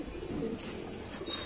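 Sialkoti pigeons coo softly in a short, low, murmuring call against a steady background hum, close but faint.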